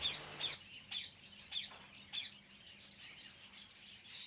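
Parrots at a parrot farm near Netanya give a run of sharp, squawking calls, loud and close at first and then a series of fainter repeated chirps, with no talking.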